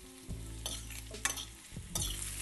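Vegetables sizzle in hot oil in a pan on raised heat while a fork stirs and scrapes through them, giving a steady fry hiss broken by several sharp clinks and scrapes, close and fairly loud with no voices.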